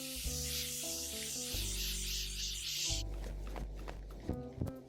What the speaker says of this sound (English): I'm gonna use my Morphe Spray